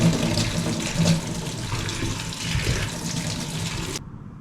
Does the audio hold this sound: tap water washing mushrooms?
yes